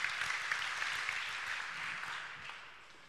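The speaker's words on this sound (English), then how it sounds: "And you may give Mathé also an applause." Audience applause after a presentation at an offshore wind energy workshop: a steady, moderately loud wash of clapping that holds for about three seconds and then begins to fade.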